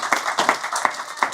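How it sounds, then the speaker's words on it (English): Applause from a meeting audience at a radio club gathering: a steady patter of many hands clapping, fairly close and even, with no talk over it. "So give yourself a round of applause"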